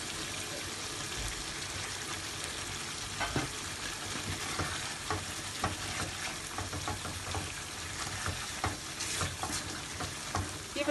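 Egg korma frying in a pan while being stirred, a continuous close sizzle with scraping and soft clattering spoon strokes scattered throughout.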